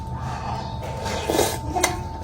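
Sisig being stirred in an oily pan, with a faint sizzle under light scraping and a couple of brief metallic clinks of a utensil against the pan, heard close with no talk.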